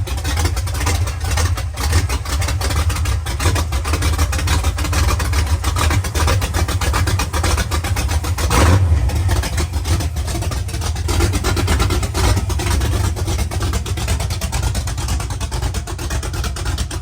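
A cold car engine idles steadily at about 575 RPM, a loud, close, continuous low rumble with a slight uneven pulse and no talking.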